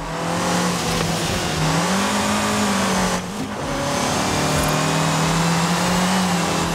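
A car engine in the racing game Forza Horizon 5 drones loudly and continuously, pitch rising and dipping with throttle, with a brief drop around midway, no voices over it.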